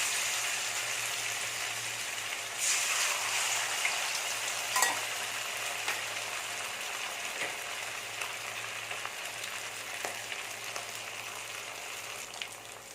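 Fish pieces frying in sunflower oil in an iron pan: a continuous bright crackling sizzle with scattered sharper pops, steady and close, slowly easing toward the end, no talking.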